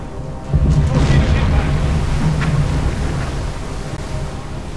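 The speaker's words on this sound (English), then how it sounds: "Nice big explosion, and there's the second one towards the rear." In the submarine game Silent Hunter 4, a torpedo strikes a ship with a deep, rumbling explosion that swells up and then rolls on as a long, low roar.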